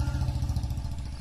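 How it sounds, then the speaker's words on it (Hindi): Royal Enfield Bullet motorcycle engine running with a steady low throbbing rumble and clatter, fairly close and continuous, with no talk over it. "भाई आवाज आ रही है भाई मोटरसाइकिल की"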